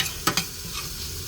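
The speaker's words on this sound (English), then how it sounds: "This is just a Thai-inspired fried rice my mom used to make" Thai-inspired fried rice being stirred in a pan on a propane stove in a van, with two quick scraping strokes near the start over a soft, steady sizzle.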